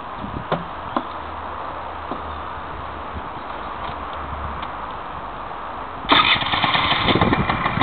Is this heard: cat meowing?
no